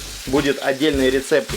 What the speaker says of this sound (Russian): У нас там жарятся куриные ножки.